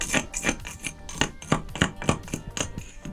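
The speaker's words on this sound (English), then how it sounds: "This stuff is pretty hard, so I'm just going to go at it with the chisel, get underneath the lip here" A chisel struck repeatedly with a hammer to pry up a hard terrazzo floor laid on concrete, about a dozen sharp close knocks in an irregular steady rhythm, with no speech.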